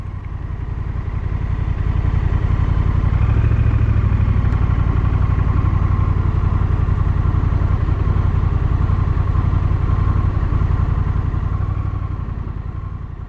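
A motorcycle engine drones steadily through a ride, a low, rapid chugging that swells a little louder in the middle and eases off toward the end, with no voices.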